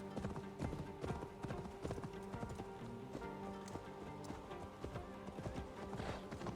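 Horse hooves clip-clop steadily in Assassin's Creed Valhalla, a brisk run of close, even hoofbeats over game background sound, with faint voice traces.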